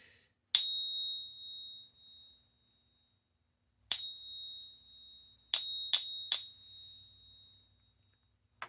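Bright metallic pings of silver Eagle coins ring out, one then another, followed by a quick cluster of three, each decaying with a clear high tone.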